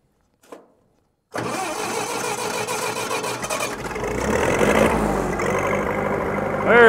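A small gas-powered engine on a dozer job site cranks and catches after a brief faint sound, then runs steadily at a close, loud idle that rises slightly as it revs, with a squeal near the end.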